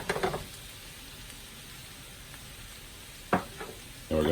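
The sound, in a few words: huevos rancheros ingredients sautéing in pan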